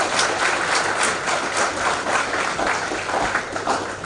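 An audience at a youth award ceremony breaks into loud, steady applause, a dense wash of clapping that holds at an even level throughout, with no voices standing out.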